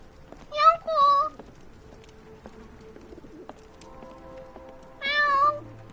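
Short cat meows come from a Sherlock Holmes video game, two quick calls close together and then another a few seconds later, with quiet game ambience and faint music between them.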